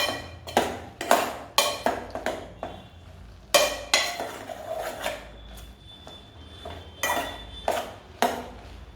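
Arai keerai spinach being stirred in a pan for mashed spinach kadaiyal: repeated rhythmic scrapes and knocks of a ladle against the metal pan, each stroke sharp and close, recurring about every half second to second.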